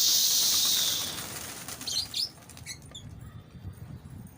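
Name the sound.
Kala Sherazi pigeon flapping wings in flight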